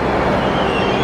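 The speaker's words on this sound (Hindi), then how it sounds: "ये अपनी मेट्रो आ गई है," Delhi Metro violet line train pulling into a station, a loud, steady rumbling roar of the carriages filling the platform without pause.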